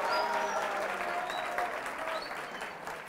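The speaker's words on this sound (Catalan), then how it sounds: "Un aplaudiment per ells també." A studio audience applauds a school team on a Catalan television quiz show, a steady, dense wash of clapping that holds throughout and fades slightly toward the end.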